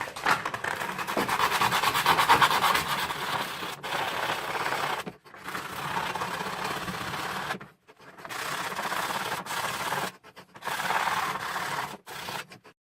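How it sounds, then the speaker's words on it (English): Close-up rasping of sandpaper scrubbing a circuit board in several bursts separated by short pauses, moderately quiet with no voices. "let me rough these boards up with some sanding paper"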